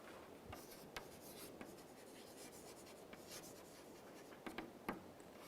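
Chalk or marker writing a proof on a lecture board, soft continuous scratching and rubbing strokes with a few sharper taps near the end, faint and steady throughout.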